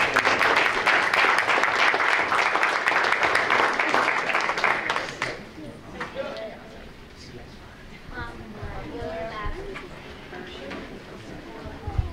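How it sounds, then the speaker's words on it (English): Steady applause from a school board meeting audience fills the first five seconds, then fades into a quiet room with scattered voices talking. "why don't we give the parents a round of applause"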